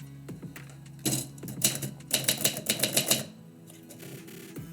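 A typewriter clatters out a poem in a quick burst of sharp, rhythmic key strikes after a few scattered taps, then goes quiet, heard up close with no speech.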